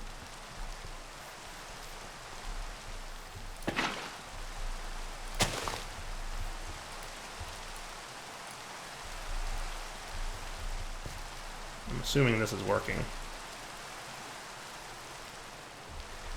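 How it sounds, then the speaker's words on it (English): Steady rain falls in Minecraft, played in the OmniFactory modpack, as a constant soft hiss. A few sharp game sound effects cut through it, and someone speaks briefly. "The rain makes it hard to tell."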